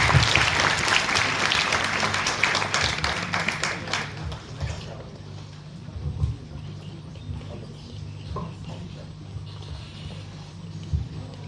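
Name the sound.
audience applause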